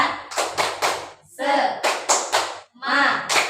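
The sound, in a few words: rhythmic group clapping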